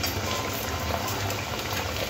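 Potato chops bubble and hiss in hot oil with a dense, continuous frying fizz, steady and close, with no talk.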